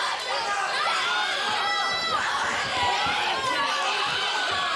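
A boxing arena crowd roars and chatters in a dense, constant wash of noise, with a ringside commentator talking over it throughout.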